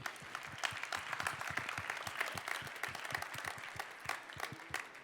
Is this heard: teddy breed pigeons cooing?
no